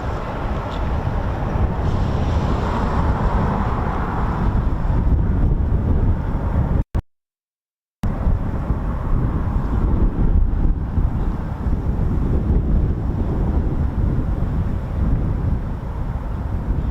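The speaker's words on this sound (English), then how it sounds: "Oh, it's a bit breezy as well, which is certainly adding to the wind chill today." On a breezy day by Windermere in the Lake District, wind buffets the microphone in a constant loud roar, broken by a brief dropout of silence partway through, with no talking.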